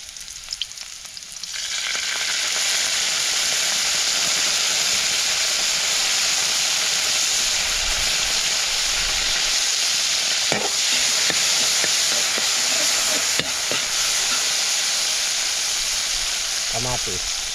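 Dried fish frying with pepper in a pan gives a loud, steady sizzle and hiss that starts abruptly and continues throughout, with occasional clinks of stirring close by.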